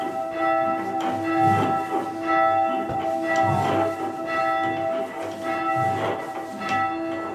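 Church bell swung and rung in a tower, loud repeated ringing strikes with long sustained metallic overtones, heard close and alone without talk.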